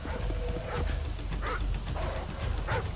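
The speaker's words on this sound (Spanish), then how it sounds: "Ahí vienen más perros." Several dogs bark in the Modern Warfare 2 Special Ops video game, with repeated sharp barks and yips over a constant, dense game-sound bed.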